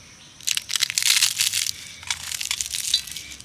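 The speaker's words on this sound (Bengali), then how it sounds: "মুচমুচে হয়েছে একটা ভেঙেও দেখাচ্ছি দেখুন" A crisp fried khaja sweet snapped and crumbled by hand, a dense burst of close crackling and crunching that goes on for about three seconds with no talking.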